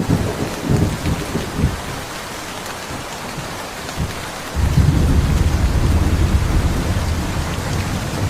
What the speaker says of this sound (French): Conduire sous la pluie ici est une expérience merveilleuse.